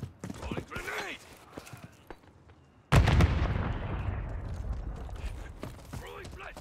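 A rolling grenade goes off in a Call of Duty hardcore team deathmatch, one sudden loud blast with a long rumbling tail, following earlier distant shots and game voice callouts.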